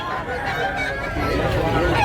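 Roosters crow at a busy fowl market in Tabunok, Cebu, a close, steady call that runs through the full two seconds over a low murmur of crowd noise.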